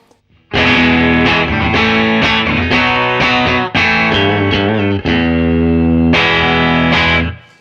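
A Fender American Professional Classic maple-neck Telecaster played through effects pedals, loud distorted chords ringing in sustained bursts with brief breaks, alone and up close.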